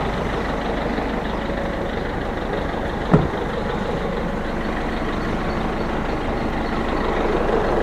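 A steady engine idles at close range with a low, constant rumble, broken once by a brief sharp click midway.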